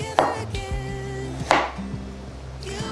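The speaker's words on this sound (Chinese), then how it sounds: "节瓜分成4等份，把节瓜切片。" A knife slices a trimmed, quartered hairy gourd (jie gua) on a board, giving two sharp, close chops and a few softer cuts over a low steady hum.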